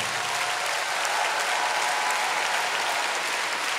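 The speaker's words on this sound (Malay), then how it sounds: "saya mohon tepukan yang gemuruh daripada pelajar-pelajar sekalian kepada pengurusan UKM" Students in a hall at a new-student pledge ceremony keep up a dense, steady roar of applause, loud and sustained without a break.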